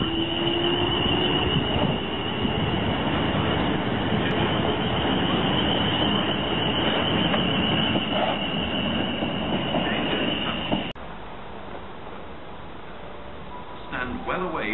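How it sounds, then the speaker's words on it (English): A non-stopping train approaches and rushes through platform 1 at Liss station, a loud sustained roar of rolling wheels with a high squealing tone, ending abruptly as the noise drops away near the end. "The approaching train is not scheduled to stop at this station."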